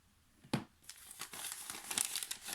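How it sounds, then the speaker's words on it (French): Tape is cut and a small advent calendar pouch is torn open, giving a sharp snip followed by close, continuous crinkling and ripping of the packaging, with no speech. "on va couper le scotch pour récupérer bien comme il faut la pochette"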